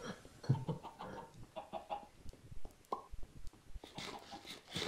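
Chicken clucks in the Minecraft video game, a few short soft bursts scattered over quiet background noise and faint game sounds, heard fairly close.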